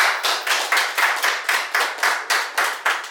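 A small crew on a talk show claps in a quick, even rhythm, about a dozen sharp, close clap bursts in steady succession with no voices.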